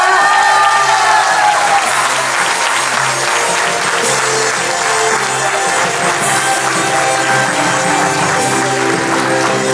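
Sustained crowd applause at the Cake Art Bulgaria Awards 2023 for a cake contest winner, loud and continuous throughout with faint voices in the room.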